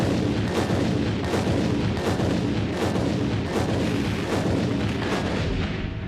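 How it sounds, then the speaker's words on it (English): Explosive charges detonate across a parking garage during a building demolition, a dense run of booming blasts and cracks rolling continuously, loud and distant with heavy reverberation. "Columns on the east end of the garage detonate first."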